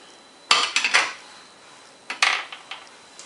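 Whole nutmeg being grated for doughnut batter gives two short bursts of dry, scratchy rasping, each a few quick strokes with a brief pause between, close and fairly loud against a quiet background.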